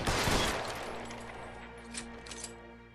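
Gunfire in the video game L.A. Noire: a loud shot burst at the start decaying into echoing tail, followed by a couple of fainter distant pops.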